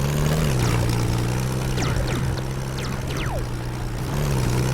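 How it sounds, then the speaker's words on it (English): Aircraft engine in the video game Steambirds Alliance: a loud, steady low drone runs throughout, with faint whooshing sweeps and other game effects passing over it. "my engine sound is way louder than them"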